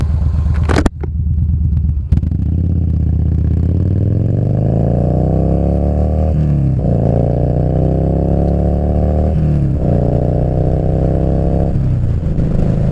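A motorcycle engine on a city street at night, close and loud, revs up and falls back several times in a row after two sharp clicks at the start, with no talk.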